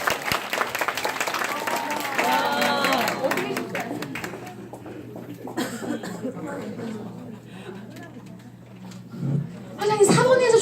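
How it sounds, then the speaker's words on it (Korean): Audience applause at an indoor product seminar quiz, scattered clapping and murmurs under a presenter's voice, with coughing and chuckles; a brief louder burst of clapping comes near the end. "이 세 분께 큰 박수 부탁드릴게요."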